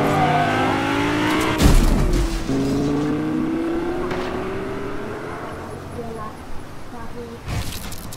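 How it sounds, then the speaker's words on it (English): Cars in the Fortnite video game rev and roar overhead, engine tones rising and falling with a sharp passing burst, while a player talks over the game sound. "Oh, those cars I can hear, they're actually above me."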